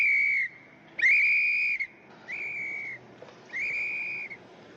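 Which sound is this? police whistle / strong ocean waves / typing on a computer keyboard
police whistle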